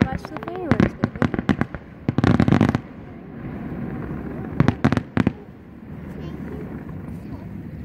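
Fireworks crackle and pop in rapid bursts of sharp bangs, clustered in two main volleys, with voices talking intermittently between them.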